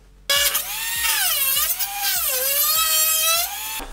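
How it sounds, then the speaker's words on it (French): Dremel rotary tool cutting sheet metal behind a Renault 4 dashboard, a loud sustained high whine that rises and falls in pitch as the load changes, with faint periodic clicks underneath, running alone for nearly four seconds. "Donc on va faire ça avec la Dremel."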